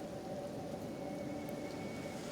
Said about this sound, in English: this acid rain won't do him any good